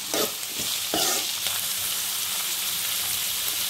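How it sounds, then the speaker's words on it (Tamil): Finely chopped tomatoes sautéing in a pan for parotta salna, with a hissing sizzle throughout and a couple of quick stirring scrapes near the start, heard up close with no talking. "இதையும் போட்டுட்டு நல்லா அந்த தக்காளி மசிகிற அளவுக்கு வதக்கிக்கணும்."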